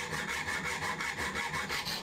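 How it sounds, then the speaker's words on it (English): A metal file rasping over the sharp cut ends of M6 bolts, continuous rhythmic back-and-forth strokes, close and fairly loud, with no voices. "I eased over the sharp edges with a file."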